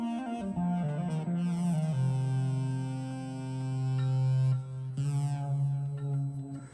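A synth voice played on a ROLI Seaboard Block M sounds sustained, gliding notes with rich harmonics, pitch bends and shifting filter tone, solo without talk.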